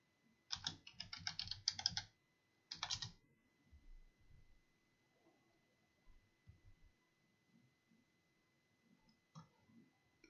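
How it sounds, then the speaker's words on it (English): Someone types a username and password on a computer keyboard: two quick bursts of close key clicks, then a few scattered taps over faint room hum. "So let's type in the username password."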